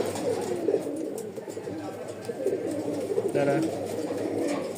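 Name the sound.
pigeons cooing at a pigeon sale in Rajshahi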